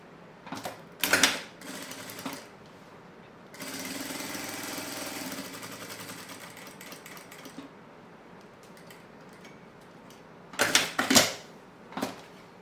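A sewing machine stitching a fabric piece for a zippered pouch, with a sustained mechanical whir for several seconds between short bursts of handling clicks and clatter, close up with no voices.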